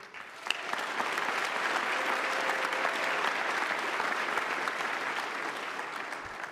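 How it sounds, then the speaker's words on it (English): Sustained applause from a large crowd at a formal event, steady and dense throughout, with a sharp clap standing out near the start. "please give a round of applause"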